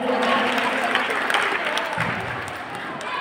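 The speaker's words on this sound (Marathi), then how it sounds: "अप्रतिम असं सादरीकरण एकदा जोरदार टाळ्या होऊन जाऊ द्या" Audience at a school annual gathering and prize-distribution ceremony breaks into dense, sustained applause, an even crowd clapping that fills the whole moment before easing slightly.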